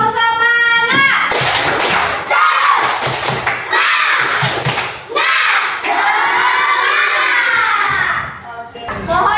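Fourth-grade children in a classroom burst into a loud clapping cheer, chanting together in rhythmic shouted bursts with claps and thuds, after a teacher's voice starts it.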